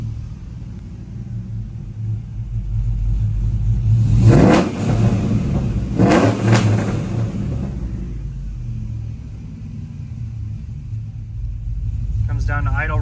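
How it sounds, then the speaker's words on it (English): A car engine fitted with a TSP Chopacabra camshaft and LT headers idles with a lumpy rumble, then revs twice in quick succession with loud swelling roars before settling back to a choppy idle. "But we'll give it a couple revs here."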